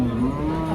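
A cow lets out a single sustained, resonant moo close by at a busy cattle market for heifers in Deohata, Tangail, in hot weather.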